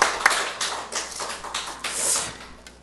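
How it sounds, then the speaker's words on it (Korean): Church congregation clapping in encouragement, a brief patter of hand claps of uneven rhythm, moderately close and alone without speech. "격려의 박수를 드리겠습니다"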